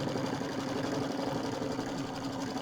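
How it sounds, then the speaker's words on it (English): An embroidery machine stitching an appliqué placement line for a winter-themed bench buddy square, a steady rapid mechanical hum and needle patter, close and continuous with no talk. "I'm going to go ahead and stitch out my placement"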